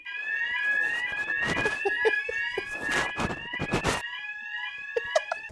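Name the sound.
smoke alarm going off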